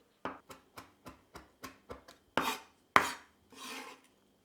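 Spring onion is chopped finely with a knife for ejjeh, a Middle Eastern omelette, in about eight quick, evenly spaced blade strikes on a board, followed by a few louder scraping sweeps, close and alone.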